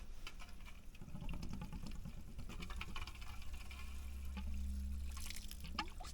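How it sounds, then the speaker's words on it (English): Hot underground water pours out of a pipe in a steady, continuous gush, with a low engine or pump hum running underneath and no talking. "I'll wait for it to spit out some of that hot water before I have a taste, Danny"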